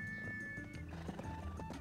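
Horse hooves clip-clopping at a quick pace in the video game Black Desert, faint and brief, with a soft whinny-like tone over the steps.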